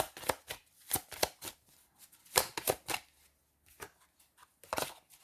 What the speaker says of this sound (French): Quand j'aurai tiré les 13 cartes.